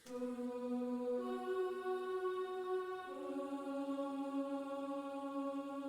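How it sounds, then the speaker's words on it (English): A dry Omnisphere boys choir preset, with no effects added, sings soft sustained synthetic choral chords that shift pitch every second or two, with no voices speaking over it. "I added this boys choir preset from Omnisphere."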